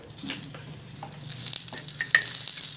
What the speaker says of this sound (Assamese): এটা কম তেলতে পৰঠাটো হৈ যায়